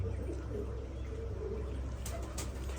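Soft, low cooing from large female pigeons repeats quietly over a faint background hum, with a brief chirp near the end.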